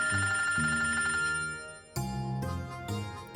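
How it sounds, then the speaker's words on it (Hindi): A telephone rings with a melodic electronic ringtone, a repeating chime pattern that pauses briefly and then resumes, clear and close with no talk. "लो जी, आ गया आपके सैया जी का फोन।"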